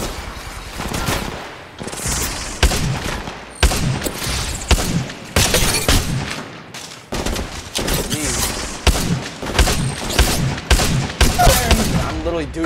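Repeated bursts of automatic gunfire in Apex Legends Mobile, loud and close, broken by short pauses with occasional booms, over a long stretch of combat.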